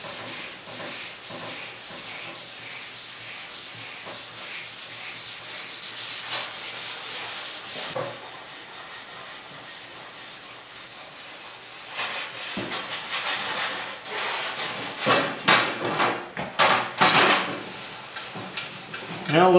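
A scuff cloth rubs steadily over the front fender of a 1972 Ford 4x4 shorty pickup during paint prep, a continuous close, dry scrubbing that pauses briefly and ends in a few harder, uneven strokes.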